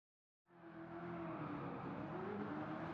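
A Bugatti Veyron Gr.4 with a swapped engine, drifting at Suzuka in Gran Turismo 7, starts abruptly and holds a steady, loud droning engine roar with tire noise for the rest of the stretch.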